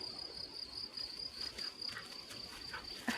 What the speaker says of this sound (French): Le grillon.